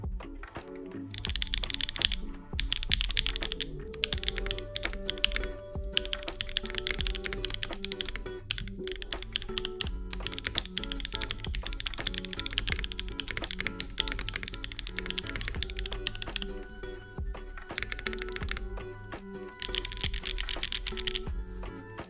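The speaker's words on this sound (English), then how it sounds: "I'll do a typing test here real quick" Continuous rapid clacking of mechanical keyboard keys, dense and steady throughout with brief pauses, close and fairly loud.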